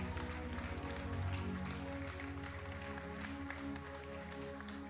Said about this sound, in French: Can we clap for the choir?